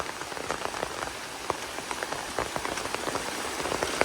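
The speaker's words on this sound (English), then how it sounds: "That's what it looks like when it rains around these parts." Steady rain pattering on the ground along the Appalachian Trail, dense irregular drops with occasional louder splats, continuous and fairly close with no voices.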